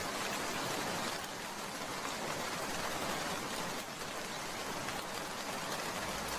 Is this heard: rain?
yes